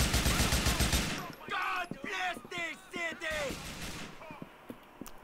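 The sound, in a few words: gunfire in video game GTA IV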